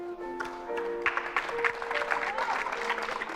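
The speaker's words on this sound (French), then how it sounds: "Aujourd'hui, les applaudissements ont repris dans les salles" Applause from a theatre audience rising after about a second into dense, steady clapping, with faint tonal sounds underneath and no talk over it.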